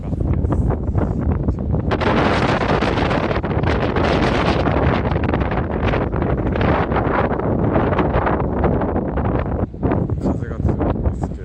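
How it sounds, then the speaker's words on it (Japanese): Strong wind buffets the microphone on a small fishing boat out at sea ahead of a typhoon, a loud, constant roar with gusty rumble filling the whole clip. "風が強いんですけど"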